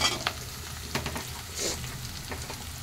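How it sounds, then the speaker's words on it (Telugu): Onion, tomato and green chilli fry in a pan with a steady crackling sizzle. Scattered spatula scrapes and stirring taps are heard close up, and no one talks. "ఆల్మోస్ట్ ఫ్రై అయిపోయినట్టే ఆనియన్, టమాటా, ఆనియన్, పచ్చిమిర్చి"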